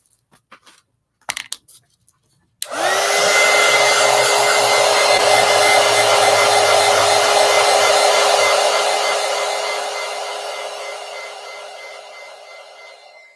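A hair dryer switches on after a few faint clicks and blows in a loud, steady whir while drying a colored pencil drawing, close by, easing slightly toward the end.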